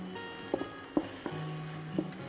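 Tomatoes sauté in a hot pan with a soft, steady sizzle, broken by a few quiet scrapes and taps of a stirring spoon, faint and close.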